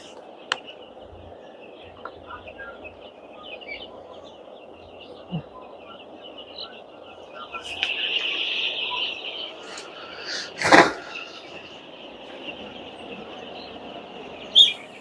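Chicks of an improved breed, about seven days old, chirp faintly and sporadically against a steady low hum, with a few sharp clicks and a brief louder burst of chirping.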